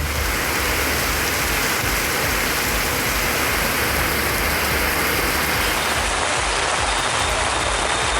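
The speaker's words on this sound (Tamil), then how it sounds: "கிருஷ்ணகிரி மாவட்டத்தில் ஓசூர், மத்திகிரி, ஜூஜுவாடி, பாக்கலூர், சூளகிரி சுற்றுவட்டாரத்தில் பெய்த மழையால் தாழ்வான இடங்களில் மழைநீர் தேங்கியது" Heavy rain pours steadily in Krishnagiri district around Hosur, a dense, loud, unbroken wash of falling water with no voices.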